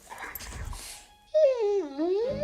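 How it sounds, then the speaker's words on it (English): A family dog lets out a close, drawn-out whimper that dips and climbs in pitch, following a few softer yips and a rustle. "To some, this might sound like a typical family dog."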